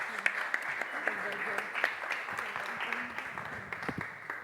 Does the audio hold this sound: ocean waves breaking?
no